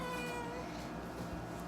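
A female house cat meows close by indoors, one drawn-out, high, whining call lasting under two seconds over a steady low background hum, with no voices heard.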